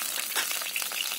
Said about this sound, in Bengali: এবার আমি কড়াটা আবার ধুয়ে গরম করে নিয়েছি। এবার এতে দিয়ে দিচ্ছি সর্ষের তেল।